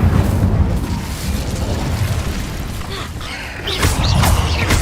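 Incendio fire spell cast in a Harry Potter video game, a bursting, booming whoosh of flame that swells again near the end over steady game ambience.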